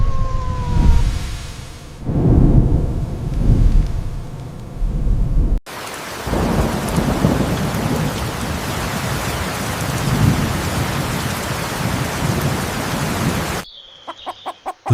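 A thunderstorm with heavy rain pours down steadily in a dense, hissing wash, with low thunder rumbling underneath. The sound cuts abruptly partway through and ends with a short, sparse stretch.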